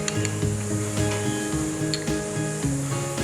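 Onion and dry spices sizzle and fry in a pan over low gas, a steady close crackle with faint stirring scrapes and light pan clinks throughout.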